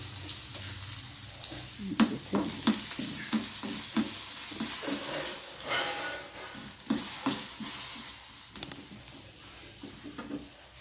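Red chillies and curry leaves frying in hot oil, a steady close sizzle with bursts of crackle and occasional stirring scrapes, no voices.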